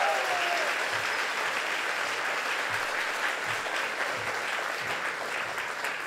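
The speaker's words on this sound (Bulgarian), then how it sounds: "Дайте ни аплодисменти!" An audience at a comedy roast in Bulgaria breaks into sustained applause, a dense, steady clatter of clapping that holds for several seconds.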